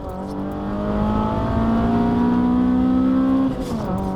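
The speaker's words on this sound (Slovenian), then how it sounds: "Avto gre, ko pride na obrate, 500 rečemo, brutalen zvok in vleče, še bolj potegne." Honda Civic e:HEV hybrid engine revs up with a steadily rising drone that holds at high revs before easing off, heard from inside the car with no talking.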